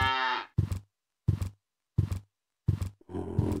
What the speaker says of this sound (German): Wieso muht eigentlich hier andauernd eine Kuh